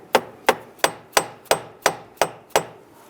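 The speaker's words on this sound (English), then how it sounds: "I'm going to use that little block of wood here, and I'm going to use a rubber mallet and tap in our heater tube." A rubber mallet strikes a block of wood to seat a heater tube on a 3.8L V6 Ford Mustang, nine evenly spaced, close, sharp knocks in a steady rhythm with no speech.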